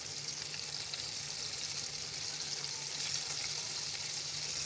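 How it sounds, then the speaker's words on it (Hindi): Pieces of crispy fried chicken sizzle steadily in hot oil, a constant close crackling hiss with no talking. "ये देखिए, हमारे मज़ेदार फ्राइड चिकन फ्राई हो रहे हैं।"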